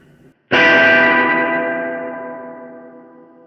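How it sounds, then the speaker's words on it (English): A Keeley Verb O' Trem pedal with its reverb turned all the way up: a loud distorted guitar chord strikes once and rings into a long, lush, slowly fading wash of reverb with slight modulation. "Let me just crank this sucker. Turn it all the way up."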